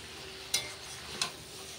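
A spiced masala mixture is stir-fried in a pan. A steady low sizzle runs throughout, and two short, sharp scrapes of the spatula fall about half a second apart.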